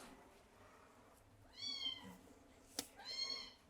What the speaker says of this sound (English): we're going to show you a kitten who's getting fed right now by one of our volunteers